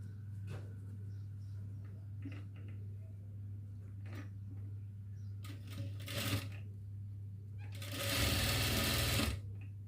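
A sewing machine stitches a double-lining frock in a steady low hum, with short bursts of faster stitching and a longer, louder run near the end, amid small clicks and handling noises.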